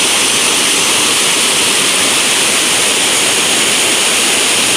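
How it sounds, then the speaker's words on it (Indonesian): A swollen mountain river rushing in the rainy season, a loud, constant, dense roar of fast water heard close with no pauses or other sounds. "Ini sungai di pegunungan bagus ya guys ya."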